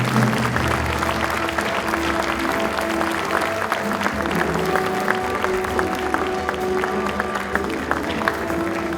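Sustained applause from a large audience at a college gala fills the room, a dense, steady clatter of many hands clapping at close range, with a voice faintly carrying over it.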